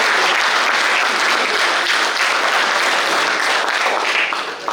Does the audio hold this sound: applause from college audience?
yes